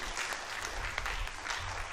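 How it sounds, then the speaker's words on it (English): Graduates at a school graduation ceremony clap together in a steady burst of applause, dense and continuous, with a low rumble of room noise under it. "Put your hands together, clap yourself."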